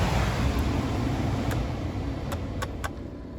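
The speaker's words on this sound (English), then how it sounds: "Hope you can hear that motor going there" A steady Fiat Punto heater blower motor hum on speed 1 with broadband whooshing air runs throughout, with a few brief faint ticks over the constant drone.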